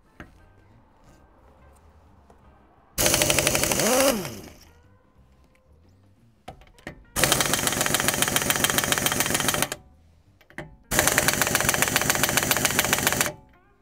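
A Parkside PDSS 310 B5 pneumatic impact wrench hammers on car wheel nuts in three loud, close bursts of rapid rattling blows, the first shorter and winding down, separated by quiet gaps with faint handling noises.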